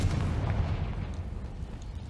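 A heavy, booming fire-spell blast rolls out continuously in the Hogwarts Legacy video game, a deep, loud, sustained explosion rumble heard alone with no talk.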